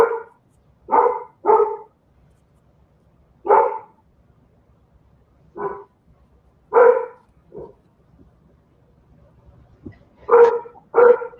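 An 11-year-old Labrador barks in a string of loud, close, deep woofs, some in quick pairs and others spaced a few seconds apart, with no talking over them.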